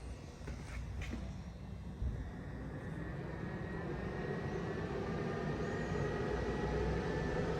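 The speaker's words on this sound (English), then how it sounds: "This unit makes almost no noise. Until you get it all the way up to the 2200 watt maximum output that it does." A DJI portable power station pushed to its 2200-watt maximum output gives off a steady, faint cooling-fan whir that holds even and unbroken, with no voices.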